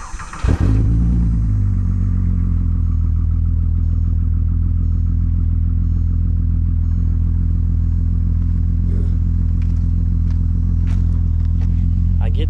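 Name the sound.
VR6 wagon car engine starting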